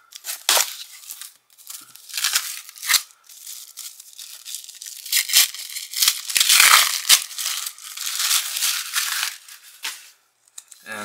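Crinkling, tearing and crunching of a mail package of sports cards being cut and pulled open, with bursts of close, fairly loud rustling separated by short pauses and no talking.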